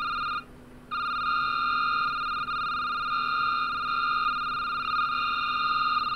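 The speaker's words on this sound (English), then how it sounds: "It's a lot of phone calls." Several telephones in the indie horror game Security Booth ring together in a steady, continuous electronic trill, briefly cutting out near the start before resuming and sounding loud and close, with no talk.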